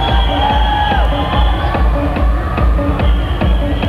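A packed crowd at the Atomic Jam club night at Birmingham's Que Club cheers and claps over steady, pounding dance music, a dense, loud wall of voices and beats throughout.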